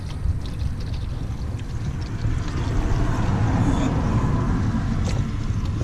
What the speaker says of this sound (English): And there comes the oil.